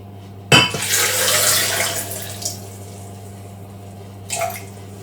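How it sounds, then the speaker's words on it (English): Water poured into a bowl of soaked cannellini beans for moi moi, a broad splashing rush that starts abruptly, fades over a couple of seconds, then a brief second splash near the end, over a steady low hum. "so I'll just add a little water"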